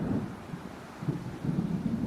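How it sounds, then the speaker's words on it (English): Thunderstorm ambience in the video game Alan Wake, low rumbling thunder rolling steadily with swells of rain and wind, no voices. "It seems there's a storm coming."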